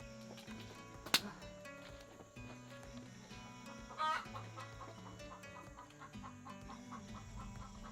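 Roosters crowing and chickens clucking on a Midwest homestead at dusk, faint and distant amid a busy outdoor backdrop, with one sharp crow standing out early and another later.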